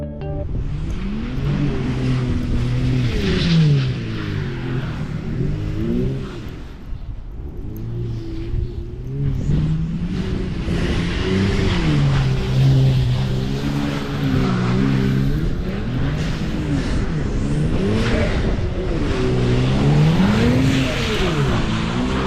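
A rear-wheel-drive Kia Stinger slides through snow, its engine revving up and down in repeated rising and falling surges, loud and close, with a steady roar throughout.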